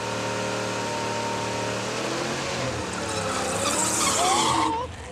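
Trans Am on a drag strip pass, a loud close engine roar with tire squeal, rising in pitch and intensity toward the end before briefly dropping off.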